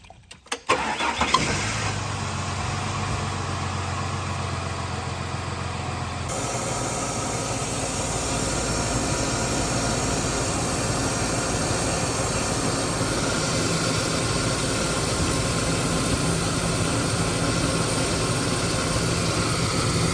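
A Ford Falcon EF/EL engine idles steadily after starting, a continuous mid-pitched car engine hum with vibration that holds for about twenty seconds, with no talking.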